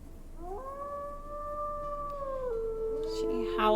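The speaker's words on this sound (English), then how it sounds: "She howls to the heavens" An injured, starving she-wolf in the WolfQuest game lets out one long, steady howl that holds its pitch and then drops lower near the end, moderately loud over faint ambient game sound.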